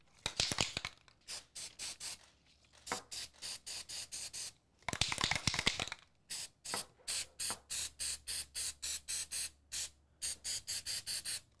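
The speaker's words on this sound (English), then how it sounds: "Now, as you can see, this I'm spraying away from the edge." Flex Seal coating is sprayed from an aerosol can onto a doormat in repeated short hissing bursts, some long and many clipped into rapid rhythmic pulses, close and clear with no talking.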